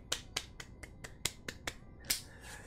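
Sharp, separate hand claps from a single person, about nine of them in an uneven rhythm across a few seconds, close and fairly quiet, with a slightly stronger clap near the end and no talking.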